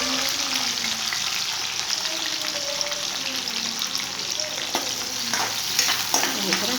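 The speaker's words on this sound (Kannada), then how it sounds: "ಈಗ ಇದು ಎಣ್ಣೆ ಕಾದಿದೆ. ಈಗ ಕರಿಬೇವು ಹಾಕೋಣ." Curry leaves drop into hot oil in a home kitchen, crackling and sizzling steadily at close range with a few sharper pops and stirring sounds.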